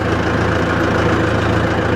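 A Mahindra Novo 605 DI PS 4WD tractor, 50 hp, runs in second gear, its engine a loud, steady, close rumble with no pauses.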